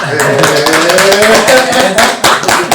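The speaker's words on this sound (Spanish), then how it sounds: "Un aplauso." Studio audience applauding to welcome a guest on a Spanish-language education podcast, dense claps and taps filling the room loudly with no pauses.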